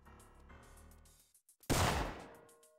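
A gunshot in the video game Syphon Filter cracks out as one loud, broad burst partway through, after a stretch of quieter in-game music and effects, then trails off briefly.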